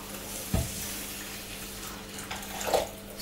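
Hot stock made with bouillon cubes is poured over couscous in a kitchen, a soft continuous splashing pour with a brief sharper splash at the start and faint bubbling, fairly quiet and close.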